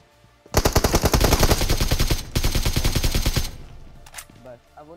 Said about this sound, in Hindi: जैसे मैंने इस बंदे पे फायर किया